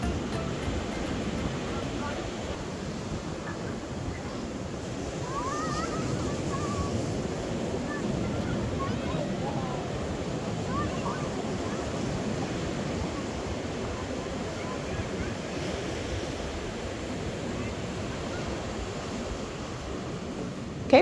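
Ocean waves wash onto the beach at Cape Vidal in a continuous soft roar, moderately distant, with wind buffeting the microphone.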